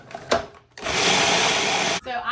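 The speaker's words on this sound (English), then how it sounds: "I'm just leaving this all in my food processor" A kitchen food processor blends old-fashioned oats and other ingredients in one loud, steady whirring burst of just over a second, with a person talking before and after it.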